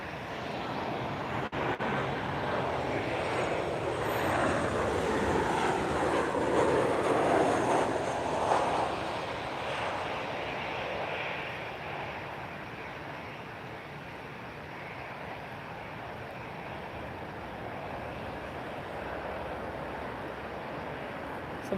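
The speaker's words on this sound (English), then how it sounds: "is a Boeing 787-900 Dreamliner" A Boeing 787-900 Dreamliner passes at Lisbon Airport on a windy evening, its engine roar swelling over the first few seconds, then fading to a lower steady rumble, with wind noise throughout.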